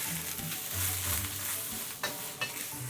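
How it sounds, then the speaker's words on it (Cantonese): Beef ho fun noodles with bean sprouts, scallion and yellow chives stir-fried in an iron wok: a steady close sizzle with scraping stirs and a couple of sharp clangs of the spatula against the wok, with no talking. "慢慢炒咯"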